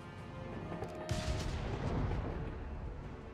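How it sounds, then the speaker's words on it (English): Mortar fire in Company of Heroes 3, with the British side's mortar firing in a battle; a sudden heavy boom then rumbles on beneath dense, distant battlefield gunfire. "Got the mortar still at work there for the British Empire."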